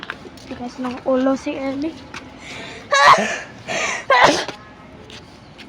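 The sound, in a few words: sneeze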